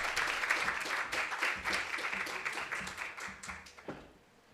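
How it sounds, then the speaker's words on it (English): An audience at a national directors' symposium applauds in a steady wash of many hands, moderately loud and slightly distant, thinning toward the end as a few last claps trail off. "With a round of applause, please."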